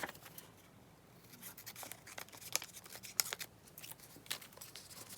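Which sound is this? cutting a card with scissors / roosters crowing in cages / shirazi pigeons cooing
cutting a card with scissors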